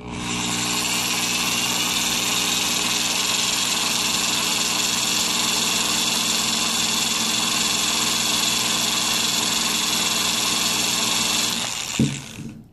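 A power drill twists an interlock wire loop into a coil until it snaps off at the chuck, giving a steady, loud, close motor whine for about twelve seconds before it abruptly cuts off.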